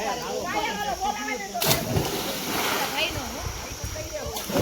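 People bathing in cold water at Sasan Gir splash about in irregular bursts, with one sharp louder splash, while voices chatter over the water.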